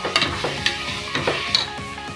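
Onions and green chillies sauté in hot oil for chicken biryani, a close, crackling sizzle broken by several sharp scrapes and clinks of a spoon stirring the pan, with no voices.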